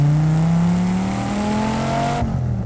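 A 568 wheel-horsepower Dodge Viper SRT-10 accelerates hard in second gear, its loud exhaust drone rising steadily in pitch for about two seconds before an abrupt drop as the throttle lifts.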